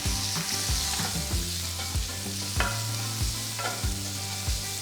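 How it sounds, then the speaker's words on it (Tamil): Chopped onion fries in a sizzling pan as a spoon stirs and scrapes, knocking against the metal every half second or so, close and loud. "இதில் நறுக்குன ஒரு பெரிய வெங்காயம் போட்டு கிண்டுங்க."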